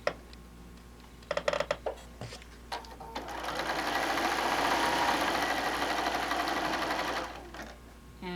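Sewing machine running a steady stitch along a quilt seam of Benartex Palette Impressions fabric, a few short bursts then a sustained, even whir for several seconds before stopping, close and fairly quiet.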